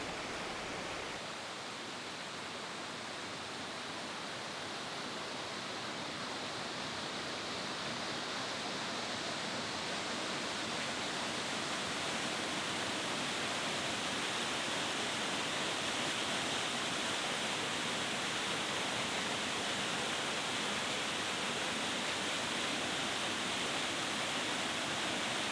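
Dolgoch Falls in Wales, a waterfall and stream pouring over rocks, roars as a dense, steady rush of water, loud and close throughout with no voices.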